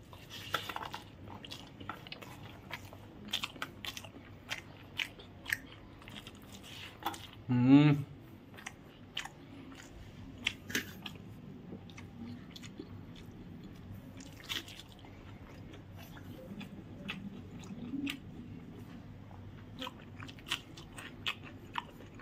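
Someone eating fried brinjal with rice at home, with soft intermittent chewing and a few clinks of a utensil, one louder crunch in the middle and a voice talking briefly.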